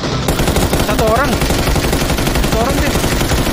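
Gunfire in the PUBG battle royale game on the Sanhok map, loud rapid automatic bursts running continuously throughout, while a player speaks briefly over the shooting.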